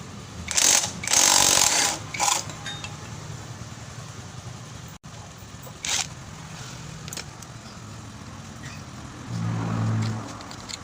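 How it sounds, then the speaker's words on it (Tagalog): Socket ratchet wrench loosening a bolt on a Bajaj CT 125 motorcycle engine during a base gasket replacement, with bursts of rapid clicking close by, then scattered metallic taps and a low rumble near the end. "tanggalin muna natin at para matanggal natin yung isang bolt dito ayan"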